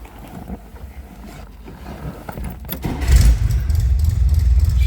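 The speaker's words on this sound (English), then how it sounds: "Let's go ahead and fire it up so you can hear it run." A 1963 Chevrolet Corvair Monza 900 convertible's engine with an aggressive exhaust cranks briefly, then catches and settles into a loud, throaty idle with a rough exhaust rumble, close by.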